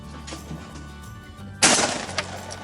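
A shotgun blast at a sporting clays range, one sharp loud report midway through after a quiet stretch with faint background sounds.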